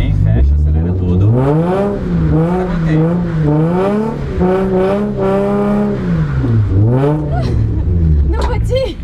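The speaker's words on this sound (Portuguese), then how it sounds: "Tá vendo esse barulho? É o diferencial trabalhando." A drifting car with its differential working and the engine revving hard, rising and falling in loud sustained pitch sweeps up close, with people talking over it.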